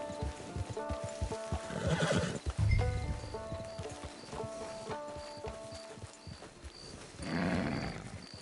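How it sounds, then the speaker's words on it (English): Horse in Red Dead Redemption 2 whinnies and neighs amid clip-clopping hooves over a game music bed, with a louder neigh near the middle and another snort-like burst toward the end. "Get your horse."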